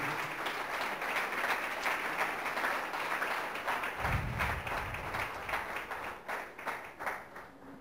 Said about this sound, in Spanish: Dale un aplauso a Cristo de gratitud